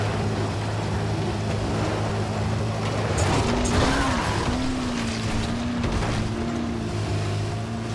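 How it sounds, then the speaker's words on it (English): Vehicle engine in the Dying Light: The Following video game, a steady low rumble that sputters and wavers in pitch as it begins breaking down, heard close and loud with a continuous outdoor wash behind it and no talking. "the engine's breaking down"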